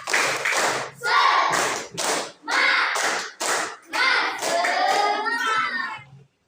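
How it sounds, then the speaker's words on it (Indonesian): Primary school class clapping a rhythmic spirit chant together, bursts of patterned hand claps alternating with children chanting in unison. "Oke, tepuk semangat."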